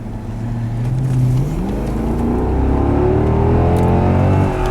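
A car engine running on LPG runs loudly and close by, its steady drone rising in pitch as it revs up, then holding at a higher hum.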